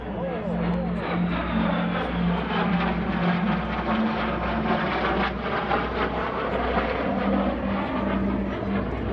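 A T-33 jet performs a slow roll at the Arctic Lightning Airshow, a steady loud engine roar sustained throughout with a droning low hum, while people talk over it.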